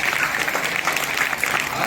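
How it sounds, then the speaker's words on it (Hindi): A crowd at a Hindi Diwas school event claps loudly and continuously, a dense, even burst of applause close by with no voices standing out. "अंकल के लिए जोरदार तालियां"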